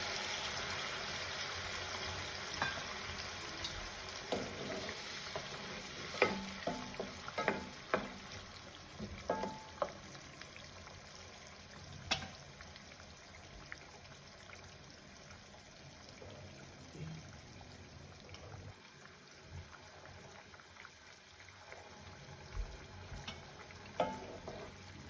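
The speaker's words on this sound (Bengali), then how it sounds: "অল্প পরিমাণ জল দিয়ে দেবো যাতে বেগুনের ঝোলটা মাখা মাখা হয়। আমি এতে গরম জলটা ইউজ করলাম।" Hot water goes into an eggplant curry with egg and potato frying in a pan. A steady hiss and sizzle runs throughout, with scattered scraping stir clicks and a light trickle. No one speaks.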